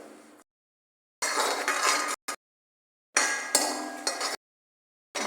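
A utensil scrapes and clinks against a pan while grated coconut is stirred, coming in several loud, bright bursts of a second or so separated by total silence.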